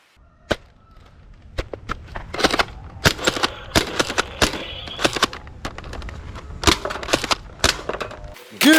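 A Nerf AK47 toy blaster fired semi-automatically: a quick series of sharp, close snapping shots, irregularly spaced over several seconds, with small mechanical clicks between them and a faint room backdrop.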